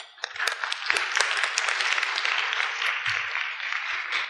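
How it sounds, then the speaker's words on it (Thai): Audience applause welcoming a speaker at an academic genomics talk in Thailand, a dense steady clapping from a full room that continues for several seconds, fairly loud and without talk over it. "ขอเสียงปรบมือต้อนรับด้วยครับ"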